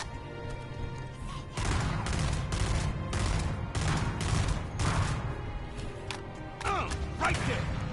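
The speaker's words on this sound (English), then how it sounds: "Give a battle rifle some screen time." Battle rifle fire in a Halo campaign firefight, repeated sharp bursts spread across the clip amid dense battle noise, with voices in the mix.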